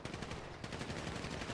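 A dense burst of rapid gunfire, continuous and harsh, filling the whole moment without any voices.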